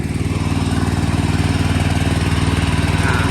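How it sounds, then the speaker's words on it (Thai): Riding lawn mower with a three-cylinder engine running steadily up close, its cutting blade spinning, giving a continuous loud throbbing drone with even pulsing and no pauses. "อ่าตอนนี้ไปพัดหมุนนะครับ ถ้าเราวางไปนี่คือสามารถตัดหญ้าได้เลยนะครับ"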